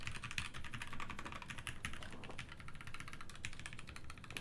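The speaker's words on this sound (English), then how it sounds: "I'm not expecting much out of a tray-mounted keyboard with like a little bit of sound dampening foam" Dense, continuous typing on a Baka60 tray-mounted keyboard with a little sound-dampening foam, fast overlapping keystrokes clattering steadily and up close with no voices.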